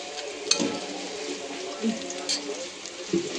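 Whole chillies go into onions browning in a pan, giving a soft, continuous sizzle with occasional clinks and scrapes of stirring while a voice talks faintly in the background.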